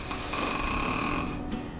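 Loud, rough snoring from a sleeper, one long rattling breath filling the moment with steady vibration and no talking.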